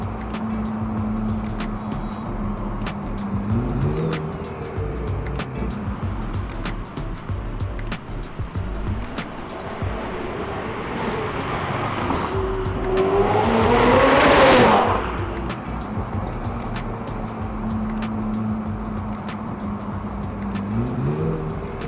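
A Ferrari 488 Pista sports car drives past with its engine rising and falling, building to a loud close pass near the middle, with brief tire squeal and skidding over a steady background.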